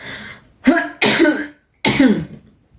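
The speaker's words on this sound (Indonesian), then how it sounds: "Aduh, sorry ya, kayaknya aku mau batuk nih guys." Three sharp coughs close to the listener, the first a short hack followed by two heavier, rougher coughs with brief pauses between them.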